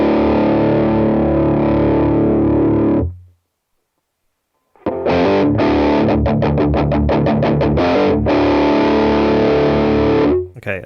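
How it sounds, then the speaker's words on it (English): Heavily distorted electric guitar through ToneLib GFX amp-simulation software holds a sustained chord, falls silent for a moment, then returns with loud, rapid chugging strums. "Distortion drive."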